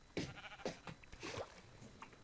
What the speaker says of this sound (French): Là, il y a des moutons.